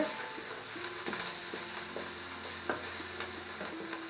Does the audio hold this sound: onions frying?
yes